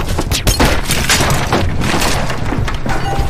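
Brutal sniper gunfire from the 2013 film The Suspect: loud, dense cracks and booms in rapid succession with sharp impacts and shattering debris, a continuous violent barrage with no dialogue.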